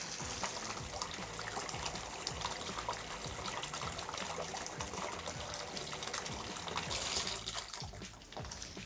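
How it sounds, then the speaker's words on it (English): Water runs steadily from a Delta Modern 14 Series shower turned fully hot, in a constant hiss, with a faint low rumble from the pipes underneath. "we're gonna turn it all the way to hot and let it get as hot as it can get"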